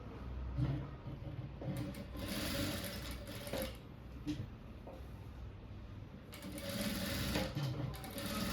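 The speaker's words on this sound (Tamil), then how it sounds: "இந்த மெயின் பீஸை மட்டும் ஃபோல்ட் பண்ணி ஒரு வாட்டி ஸ்டிச் பண்ணுறேன்" A sewing machine stitches down the folded main piece of a three-dart blouse in several close, fairly quiet runs, with short slowdowns and light handling noises between bursts.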